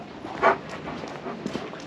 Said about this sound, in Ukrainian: От собаки.